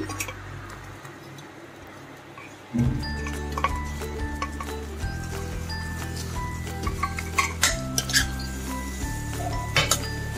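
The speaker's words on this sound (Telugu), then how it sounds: "ఇప్పుడు ఉడికించిన రైస్ కూడా ఇందులో వేసేసుకుందాం" Two cups of cooked rice go into a pot of cooked moong dal and get stirred for a festival prasad, with light utensil clinks and ticks over a steady kitchen hum.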